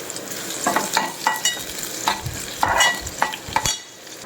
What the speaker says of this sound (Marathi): तेल तापतो आहे मस्त लसूण तेलावर टाकलं आहे त्याच्यानंतर कांदा मस्त परतून घ्यायचा